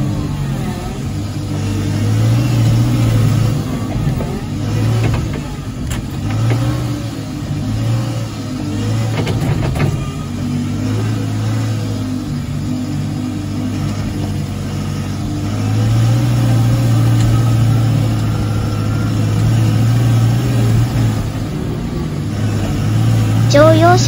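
A Hitachi ZW100 snow-removal wheel loader on spiked tires drives a long stretch in reverse, its mid-pitched diesel engine droning steadily with periodic revving swells, close and continuous throughout.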